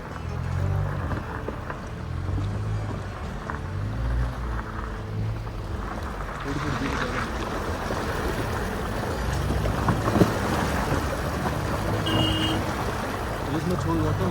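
An off-road vehicle fords a mountain river crossing on the Jispa to Shinkula pass route, with steady rushing water and engine rumble throughout and voices chatting over it.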